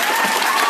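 Audience applause at a folk singing event in Uttarkashi, a brief burst of dense, loud, close clapping with no talking.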